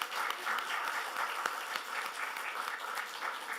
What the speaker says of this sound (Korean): 한번 환영의 박수 해주세요